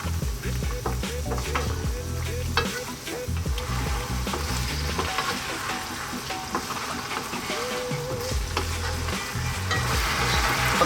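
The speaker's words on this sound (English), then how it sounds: "So we're going to just cook it until this kind of dries down a bit." Chinese five spice pork belly bubbles and sizzles in a reducing sauce in a pan, close and steady, with frequent scraping and clinking from a spoon stirring it.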